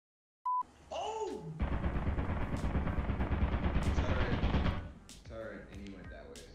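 Lethal Company turret rattles off a sustained burst of rapid automatic fire for about three seconds, loud and close, preceded by a short beep and whirring spin-up, with excited voices talking over the end.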